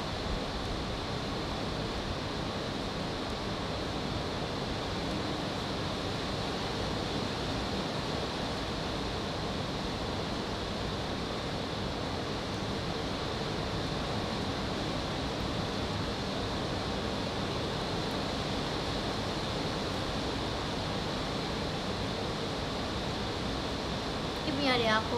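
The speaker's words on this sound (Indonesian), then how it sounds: "Risik banget ya hujannya." Heavy rain falling in a steady, dense hiss that stays at an even loudness for the full stretch, close and enveloping, with no breaks and no voices.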